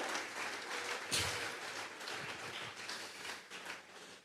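A church congregation claps together as an offering to God, a dense, steady wash of applause that swells briefly near the start and carries on evenly throughout.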